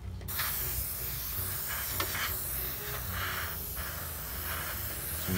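An airbrush sprays Mission Models acrylic paint in light, wet coats a few inches from the workpiece, giving a steady, soft close hiss with faint pulses as passes are made, and no talking.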